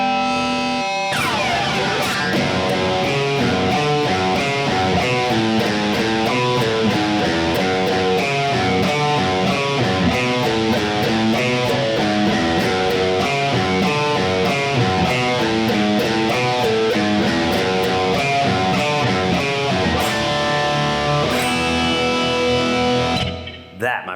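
Heavily distorted electric guitar plays a driving riff, loud and continuous with chugging palm-muted notes throughout.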